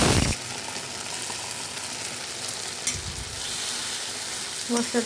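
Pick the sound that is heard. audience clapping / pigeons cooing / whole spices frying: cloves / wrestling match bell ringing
whole spices frying: cloves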